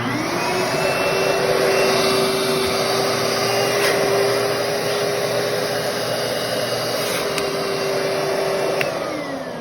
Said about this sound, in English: today we got a ShopVac issue. We're working on this right here, and let's take a listen to this.